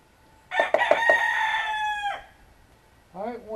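A rooster crows loudly nearby in a long drawn-out call with a few clucks at the start, followed by another bird's call beginning shortly after.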